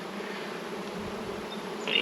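Honey bees on a hive frame give a dense, continuous buzzing hum. Many insects sound close together at a steady level, and no voices are heard.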